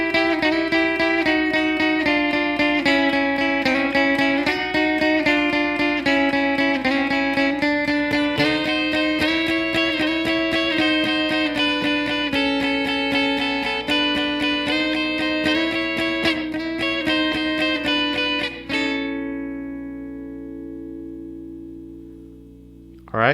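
Electric guitar plays the closing blues licks of a song with bent, sliding notes. The licks run steadily, then end on a ringing note that fades out.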